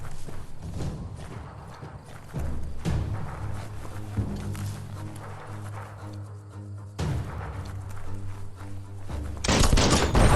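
Gunfire rings out in Biomutant as a player shoots an explosive object, with repeated sharp shots in a steady, galloping rhythm over a game soundscape. A louder burst comes right at the end.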